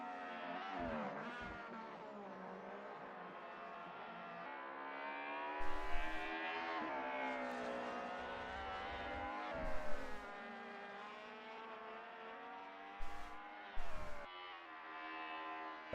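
Race car engines in a DTM league sim racing game hold a steady, tonal drone, with brief louder rasps of passing cars now and then.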